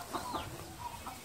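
A hen clucks on a ranch, two or three short close clucks in quick succession, heard alone without voices.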